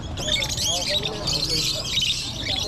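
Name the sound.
bird at a pet market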